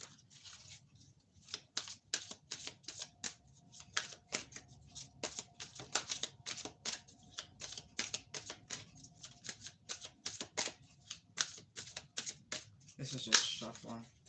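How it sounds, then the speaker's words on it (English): Tarot cards being shuffled, a fast run of crisp riffling and snapping card sounds, fairly faint and close, with brief quiet gaps between bursts. "This is just shuffling."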